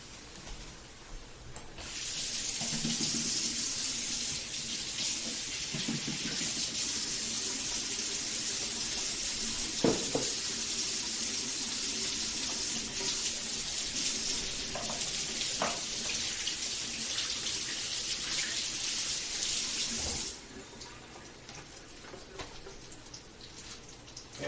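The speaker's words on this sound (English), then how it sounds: "Do the dishes real quick." Kitchen tap running steadily while dishes are washed, a constant hissing stream with occasional clinks and knocks of dishware, lasting about eighteen seconds before cutting off into quiet room sound.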